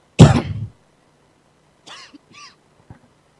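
A man gives one loud, close cough and throat clearing, followed after a pause by a few quieter throat noises and small vocal sounds in an otherwise silent room.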